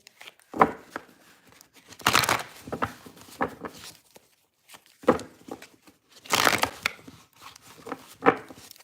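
Tarot cards shuffled by hand during a live card-reading session, giving brisk papery riffles and crisp rustling bursts, two main flurries with scattered softer flicks and pauses between them, close and fairly loud, with no talking.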